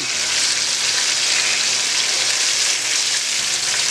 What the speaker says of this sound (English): I'm going to flip these over so we can continue to cook on the other side.